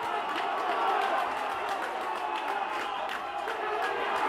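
Pontypridd's home rugby crowd cheers and roars steadily as their team drives a maul toward the try line, a broad wash of crowd noise with a commentator's voice over it.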